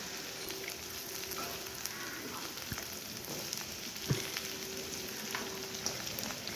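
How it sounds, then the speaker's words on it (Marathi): Vegetables sizzling as they are stir-fried in a pan with a pinch of rock salt, a steady soft crackle with occasional spatula scrapes and taps against the pan. "ही भाजी आपण परतून घ्यायची आहे व्यवस्थित"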